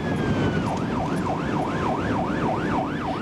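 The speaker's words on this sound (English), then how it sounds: "Johnson hits his lights and sirens and races to the call" A police car siren wailing on the way to a domestic call, its tone sweeping up and down in a steady cycle over road and engine noise.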